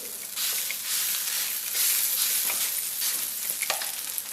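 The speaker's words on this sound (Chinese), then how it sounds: "盖上盖子烙" A scallion pancake pan-fries on a covered griddle, giving a continuous bright sizzling hiss that swells and settles with faint crackles, no voices.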